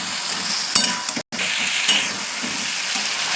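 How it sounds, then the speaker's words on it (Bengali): Potatoes and spice paste stir-frying in hot oil for a vegetarian curry, a steady close sizzle with scraping spatula strokes and a brief break midway, no talking. "মশলাটা ভালো করে কষাবো"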